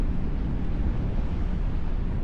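Wind rushing past the microphone while parasailing over the sea at Boracay, a steady low buffeting roar that stays constant and fairly loud, with no voices rising above it.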